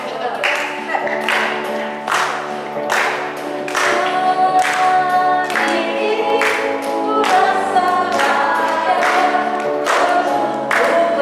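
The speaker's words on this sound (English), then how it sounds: "Let's put our hands together. Clap." Children clap their hands together in a steady beat, about once a second, alongside a sung song with sustained musical tones, loud and close throughout.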